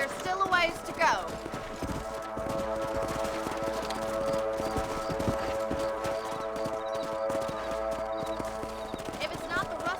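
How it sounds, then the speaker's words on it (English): Horse hooves clop at a steady riding pace in the western video game Red Dead Redemption, running continuously under game music, with a whinny near the start and voices talking over the ride. "Let's mount up and patrol the rest of the property."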